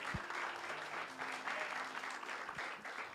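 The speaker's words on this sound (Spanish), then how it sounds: "Denle aplauso al Señor." A church congregation applauds during an evangelistic sermon, a steady wash of clapping from many hands lasting throughout, with a faint voice or two underneath.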